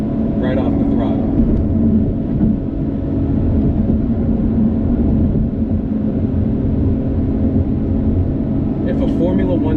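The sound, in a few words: 2020 Lotus Evora GT engine on a high-speed run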